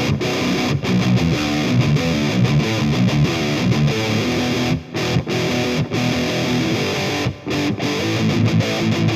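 Heavily distorted electric guitar chugs through a chord progression from a song, dense and loud with rapid rhythmic palm-muted hits and a couple of brief gaps between phrases.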